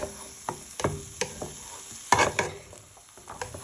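A wooden spoon stirring vegetables in a hot pan for prawn linguine, giving repeated soft scrapes and knocks over a light sizzle, with a louder flurry of stirring midway.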